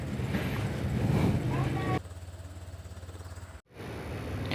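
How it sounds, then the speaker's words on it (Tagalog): A Honda Click scooter engine idles steadily with an even, low mechanical rumble, and its pitch shifts partway through under breezy outdoor noise. "start na natin yung engine. So i-idle lang po natin siya ng mga 5 to 10 minutes"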